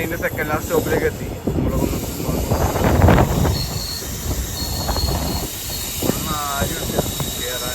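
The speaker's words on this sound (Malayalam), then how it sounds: "ട്രെയിനിൻ്റെ സെക്കൻഡ് ലാസ്റ്റ് സ്റ്റോപ്പിലേക്ക് എത്തി." The Shoranur–Thrissur passenger train arrives at a station, its wheels squealing in shrill, wavering screeches over a loud rumbling, hissing roll, with voices talking in the background.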